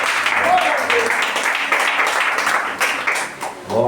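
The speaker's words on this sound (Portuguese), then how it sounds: "vamos receber o servo de Deus com as palmas bem alegres para Jesus" Congregation clapping together during a church communion service, a dense, steady wash of applause that fills the whole stretch, with voices mixed into the crowd sound.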